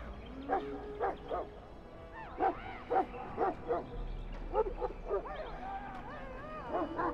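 A Mabari war dog in the fantasy video game Dragon Age Origins gives a string of short barks, yips and whimpers in bursts, close and clear over a low background tone.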